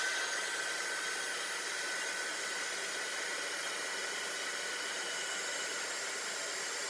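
Heat embossing tool for card crafting blowing a steady, close, hair-dryer-like rush of air that holds unchanged throughout, with no talking.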